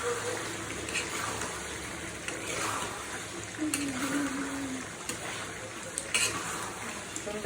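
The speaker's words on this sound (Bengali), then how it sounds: "সুন্দর করে নাড়িয়ে দিচ্ছি।" Duck meat cooking with coconut is stirred in a pot, giving soft scraping and wet sizzling sounds at a low level, with a few clinks of the utensil against the pot.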